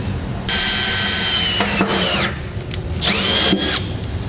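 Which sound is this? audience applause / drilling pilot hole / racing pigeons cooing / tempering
drilling pilot hole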